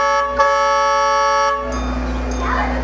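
Horn of a kids' ride train at Kinsmen Park in Saskatoon, a loud, sustained multi-tone toot heard up close, sounding steadily before shifting to lower rumbling and faint background commotion.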